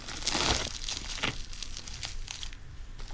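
Packaging crinkles and tears as it is peeled off a delivery of silver and gold bullion, a close, continuous rustling with a louder crackle at the start.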